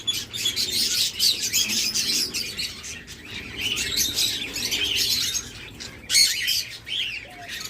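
Farm-kept birds in a breeding enclosure call and chirp continuously, a dense bright chatter of many overlapping tweets and squawks, with occasional brief lulls and a louder burst near the end.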